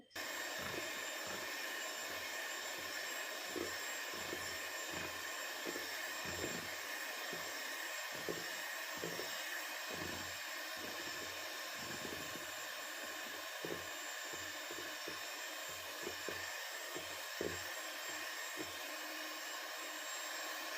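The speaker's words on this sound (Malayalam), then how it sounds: "ഇനി ഇത് നന്നായിട്ടൊന്ന് ബീറ്റ് ചെയ്യാൻ പോവുകയാണ്" An electric beater whips cream with strawberry crush for homemade ice cream, a constant whirring motor drone with repeated soft knocks and thumps of the beaters against the bowl, no speech.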